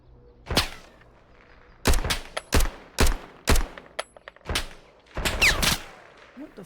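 Assault rifle fire in the shooter game Road to Vostok, a series of sharp cracking shots in short bursts and single reports, loud and crisp against a quiet background with no talk.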